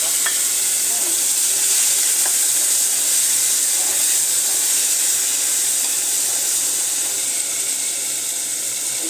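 Green chillies and tomato fry alongside pabda fish in hot oil, producing a loud, dense, unbroken sizzle with faint stirring clicks, close up and steady for the whole stretch.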